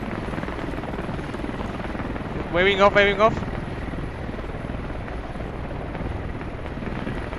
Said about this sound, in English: Second chopper coming in, that's friendly.